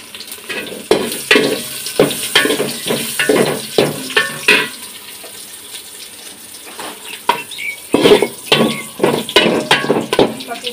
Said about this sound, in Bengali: এগুলো আমি তেলে বাগার দিয়ে দিব